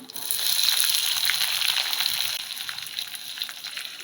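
Chopped big onion dropped into hot oil with mustard seeds, a loud close hiss and sizzle that swells right away then crackles on steadily, fading slightly, with no talk.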